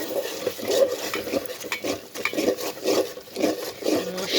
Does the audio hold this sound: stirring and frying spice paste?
yes